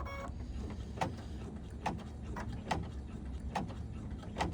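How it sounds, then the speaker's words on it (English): An embroidery machine stitching across felt and vinyl for an in-the-hoop glasses case gives a steady low mechanical hum, with a regular tapping pulse roughly every second, close and without talk. "This is going to stitch at that top line across the top."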